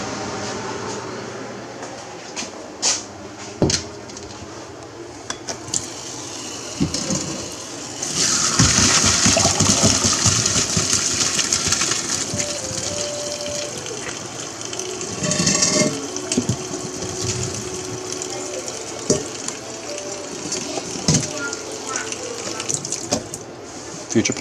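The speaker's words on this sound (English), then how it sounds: "Potatoes, ready to be drained" Water pours out of a pot of boiled potatoes into a sink in a long, loud rushing stream that swells midway and carries on with clatter from the pot, all close by.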